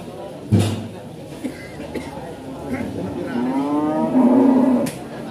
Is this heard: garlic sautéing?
no